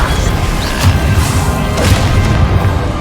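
A Confringo blasting spell explodes in Hogwarts Legacy, a loud sustained crashing boom with repeated bursts and swooshes filling the whole stretch.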